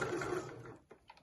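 A domestic sewing machine runs a short burst of back stitches on a pyjama waistband, a close whirring hum that stops partway, followed by a few small clicks and handling sounds.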